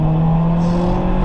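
A Peugeot 206 RC engine revs hard toward high rpm, a loud, steady, close-up mechanical whine that holds for the whole short stretch with no voices.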